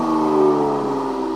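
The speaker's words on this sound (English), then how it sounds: "And now, let's get a quick rev from the C43." Mercedes-AMG C43 engine revs once, a loud close-up blip with a steady harmonic growl that rises slightly and holds before easing off, with no talk over it.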